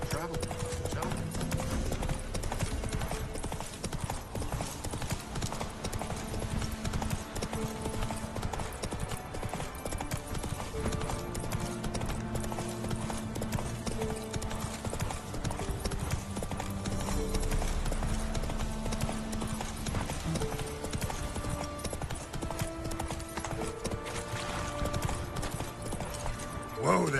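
Rhythmic clip-clop of the horse Roach's hooves at a steady walking pace in The Witcher 3, continuing under game music and spoken dialogue throughout.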